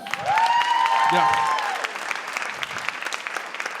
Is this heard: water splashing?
no